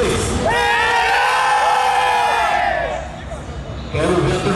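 Crowd of fans cheering at the Auto Esporte Expo Show 2014 motorsport event, the GP do Brasil final: loud sustained shouts and whoops from many voices, dipping briefly before swelling again.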